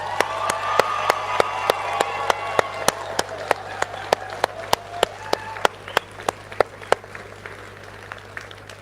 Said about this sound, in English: Give them a huge cheer and round of applause.